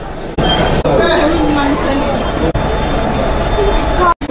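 A train rumbles at crowded Kasara railway station on the way to Harihar Fort near Nashik. The rumble is loud and continuous, with crowd babble and nearby talking over it and brief gaps in the sound.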